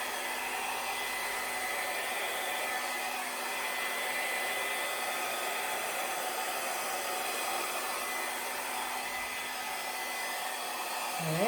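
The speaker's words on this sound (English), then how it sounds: "I was running the hairdryer while I was tangled up in the cord" A hair dryer runs steadily from start to finish, a constant airy whoosh with a faint electric hum and no talking.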